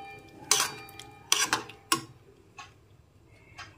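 Spice mixture and water being stirred in a plate, with a few sharp clinks and scrapes of a spoon against the dish, spaced apart and close by, with no voices.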